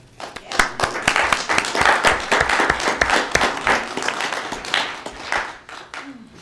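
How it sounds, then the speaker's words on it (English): Applause at a Las Cruces Public Schools board meeting, a room of attendees clapping steadily for several seconds with dense, overlapping claps, loud and close, tapering near the end. "I think you deserve an applause for that"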